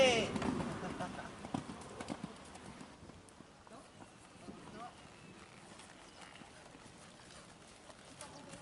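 Hoofbeats of a horse galloping in a riding arena, a steady rhythmic clip-clop that is clearer at first and fades into the background, with a French-speaking voice talking over it.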